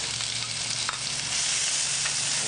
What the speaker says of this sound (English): Lower the flame a little, and we're gonna kind of sweat these onions